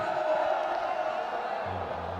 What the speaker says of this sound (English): Lovely crowd that's come in,